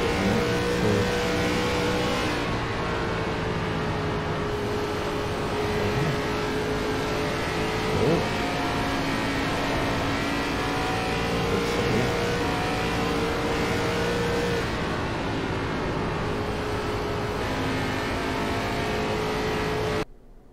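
Race cars thunder steadily around the ARCA oval at Dover in the iRacing sim, a continuous loud engine drone with shifting pitch as several cars pass close by, no talking over it.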